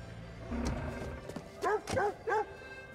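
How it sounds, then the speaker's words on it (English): A dog in the open-world game Watch Dogs 2 gives three short, fairly close barks in quick succession after some quieter background noise. "That's a good doggy."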